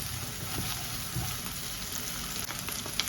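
Crushed garlic and ginger sauté in a pan of hot oil for fried paneer butter masala, giving a steady, close frying hiss with small crackles and no talking.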